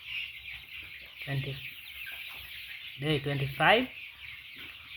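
Sasso chickens on day 25 of brooding on a poultry farm give short clucks and a couple of louder rising calls over a steady background hum, with a person speaking at moments.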